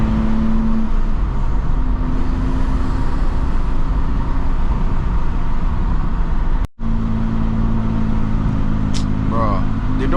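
A 650-horsepower manual BMW M2 cruises along an open New York City highway, its engine and road noise a constant heavy drone inside the cabin, briefly cut off once, with people talking over it.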